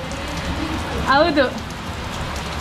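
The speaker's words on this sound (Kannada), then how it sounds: "ಸಖತ್ತಾಗಿ ಮಳೆ ಬರ್ತಿದೆ" Heavy rain falls steadily near a lake, a dense continuous hiss of drops on surfaces, while a voice briefly speaks over it.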